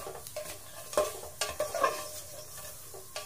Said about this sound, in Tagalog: Kaya halo lang po natin ng halo para hindi po ito masunog.